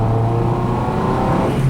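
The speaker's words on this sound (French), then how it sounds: "Oh le rupteur." A car engine bouncing off its rev limiter, held at high revs as a loud, close, continuous buzzing drone with a slight stutter and no break.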